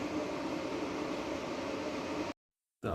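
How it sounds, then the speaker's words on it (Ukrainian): Cooling fans hum inside an Easun 3.6 kW inverter under repair, a steady broadband whoosh running continuously before cutting out abruptly, then briefly resuming. "Вентилятори вімкнулися, да, прилічно."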